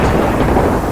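Loud, dense rumble of February thunder rolling through a thunderstorm, with rain hiss underneath, a continuous close roar filling the short moment on its own.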